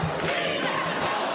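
Packed crowd at a public forum in a high school building, shouting and jeering in loud, dense, continuous opposition, voices overlapping with no single speaker standing out.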